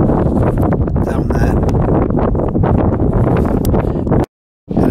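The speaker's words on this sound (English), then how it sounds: "as you can hear, the wind's really getting up now" Strong wind buffets the microphone on a fell walk over Catbells near Derwentwater, a loud roaring rumble with gusty surges, briefly cutting out near the end.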